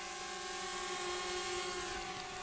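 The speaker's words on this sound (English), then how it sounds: "as you can see, here it is, my drone" A DJI Spark drone hovering nearby, its rotors giving a steady, loud, high-pitched whine with strong harmonic bands that holds constant throughout, with no talking.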